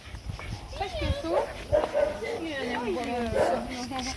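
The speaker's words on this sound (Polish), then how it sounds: "O, rozszczekały się wszystkie psy." Several dogs barking, yipping and whimpering outdoors in Greece, moderately close and overlapping in an uneven burst over a few seconds.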